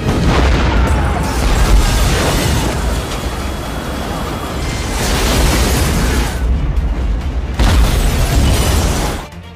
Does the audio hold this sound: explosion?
yes